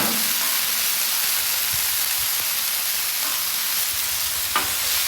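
Ground beef burger seasoned with salt and pepper sizzling on a flat-top griddle, a steady close hiss of frying meat with a few faint scrapes and clicks.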